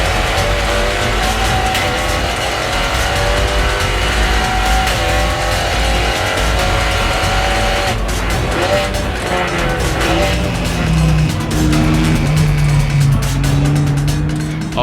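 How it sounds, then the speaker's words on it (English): A front-wheel drive car on semi-slick tires races around a track with a loud, continuous engine roar that rises and falls through gear changes. Tires squeal near the end, and faint voices come through underneath. "the car with semi-slicks is fast"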